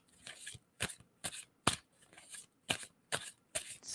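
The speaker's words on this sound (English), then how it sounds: "And tell me when I should stop shuffling on that." Tarot cards being shuffled by hand in a run of seven or eight crisp riffling bursts, each about a third of a second long with short pauses between, close and fairly quiet, with no talking.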